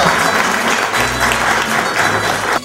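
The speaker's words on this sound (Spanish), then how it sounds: "Un fuerte aplauso para nuestro hermano Galícono Carranza" A brief burst of loud, dense applause for brother Galícono Carranza at a Señor de los Milagros festival gathering in Santiago de Chile, continuous and close.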